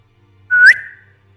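A single short, loud whistle rises in pitch and then fades, heard alone over a low background hum.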